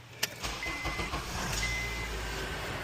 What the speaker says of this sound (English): this one has a belt squeak